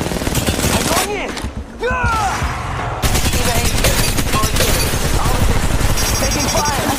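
Rapid automatic gunfire from a battle in the mobile shooter Apex Legends Mobile, loud and dense for the whole stretch, with bursts overlapping and brief lulls between volleys.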